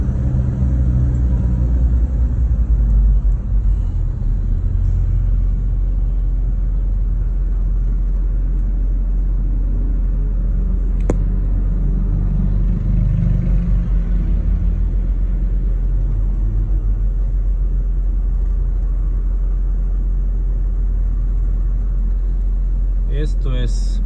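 Slow highway traffic through Guatemala City, heard from inside a moving car: a heavy, continuous low engine and road rumble with a single sharp knock midway and a brief rattle at the end.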